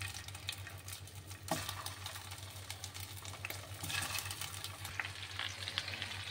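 Boiled potato pieces frying in hot oil with asafoetida, mustard seeds and curry leaves, a steady close sizzle with crackling bursts and stirring scrapes, a low steady hum underneath and no talk.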